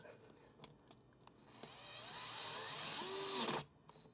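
A power drill driving a screw whirs up after a few light clicks, rising in pitch for about two seconds before cutting off abruptly.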